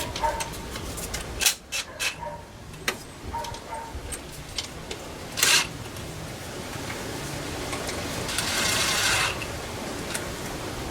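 An impact wrench lightly snugs timing cover bolts on a 2004 Mitsubishi Montero, heard as short ratcheting bursts and clicks spread through the stretch, mixed with metallic handling noises and a longer hiss near the end, with no talking.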